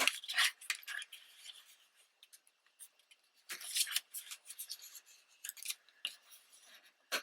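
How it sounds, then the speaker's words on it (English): Burnishing a folded paper gift card holder, quiet intermittent scraping and rubbing strokes in short bursts, close and faint. "I think I'm good to burnish this one a little bit"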